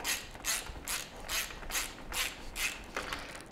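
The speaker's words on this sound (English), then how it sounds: "If I can find my ratchet here, give a few turns on this guy." A hand ratchet tightens a bolt on a linkage guard install, giving a rhythmic series of about eight crisp clicking bursts, close and clear with no talking.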